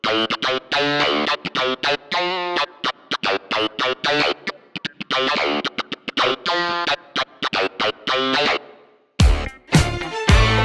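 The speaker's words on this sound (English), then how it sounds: "when you sample through the oldest of oldest gear with an old clavinet and a true old Mutron" Choppy, distorted funky old clavinet riff through a vintage Mu-Tron, with rapid percussive stabs and a nasal wah-like sweep, playing alone, ending in a brief burst of different harsh notes.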